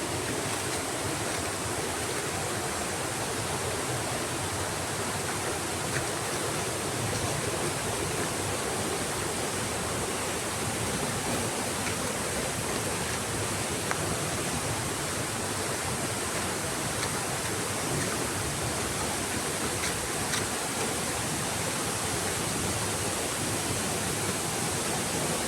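Buruwisan Falls pours down in a steady, loud roar of rushing water that fills the whole stretch evenly and without a break, with no voices over it.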